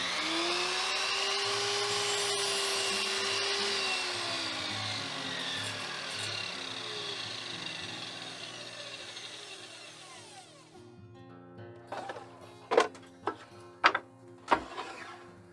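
A power saw cuts wood for a large Craftsman-style lantern, its loud, steady whine holding for several seconds before winding down, followed by a few sharp knocks and clatters of the workpiece.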